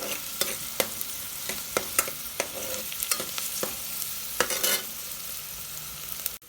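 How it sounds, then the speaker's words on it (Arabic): Onion and crushed garlic being stirred in a pan, a soft steady sizzle broken by regular scraping taps of the spoon against the pan, close and alone with no talk. "قلبهم لحد ما تدبل البصلة معي."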